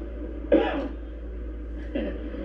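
A single sharp cough bursts out, followed moments later by a second, softer cough, close to the microphone over a steady low hum.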